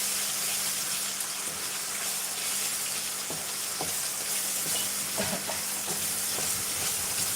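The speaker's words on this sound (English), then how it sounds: "you want to cook off the tomato puree and your tomatoes" Tomato puree and chopped tomatoes sizzle in a hot pan for a curry, a steady loud hiss and crackle with occasional stirring clicks, without talk.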